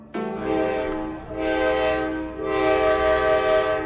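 A train arriving with visitors in Burnet, Texas, sounds its horn in three long, loud, steady blasts, the first beginning abruptly, with brief dips in between, close by and with no voices.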